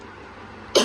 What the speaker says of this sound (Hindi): खांसी आ रही है अचानक से, पता नहीं क्यों।